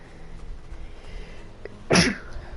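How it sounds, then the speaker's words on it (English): A single sharp sneeze bursts out near the end, close and loud, following a stretch of quiet room tone. "Oh, I got sneeze."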